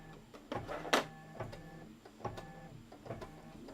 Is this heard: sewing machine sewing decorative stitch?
yes